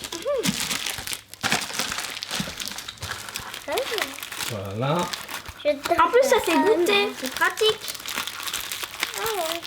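Crinkly plastic wrapping on an Advent calendar gift rustles and crackles up close as sticky tape is worked loose, while an adult and someone talk over it.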